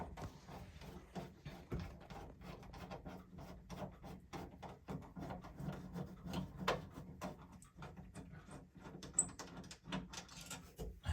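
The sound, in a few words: unscrewing the two screws of an outlet faceplate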